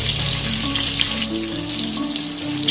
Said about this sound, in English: The eggs have almost fried lightly, so we'll take them off from the pan.